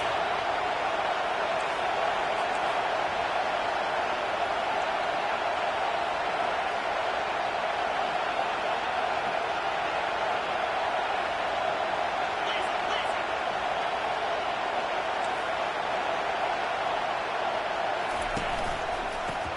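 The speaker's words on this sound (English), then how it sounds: "this crowd is tearing the lid off this place" Dense, steady roar of a stadium crowd at a football game on a crucial third down, loud and constant throughout with no gaps, heavy broadband noise with a broadcast announcer's voice blended underneath.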